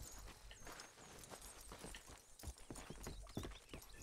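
Horse hooves clip-clopping in Red Dead Redemption 2, faint, irregular thuds of a walking horse on a ground surface, with a soft snort or whinny and light background ambience.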